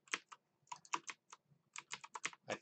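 Fingers tapping a computer keyboard in quick irregular bursts of clicks, close and quiet, with brief pauses between keystroke clusters and no talking.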